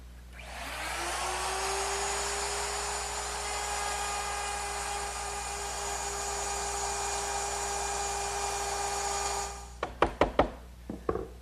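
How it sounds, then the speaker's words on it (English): An overarm router fitted with a 1/4 inch round nose bit whines at a steady high pitch while cutting wood, loud and sustained for about nine seconds, then spins down and gives way to a few sharp wooden knocks. "To do that, I just used my overarm router, which is now equipped with a 1/4 inch round nose bit"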